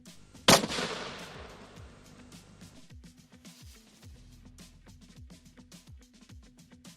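A Metal Storm 36-barrel burst gun fires in a single loud, sharp blast that rings out and decays over about a second, followed by a low tonal backdrop with no further shots.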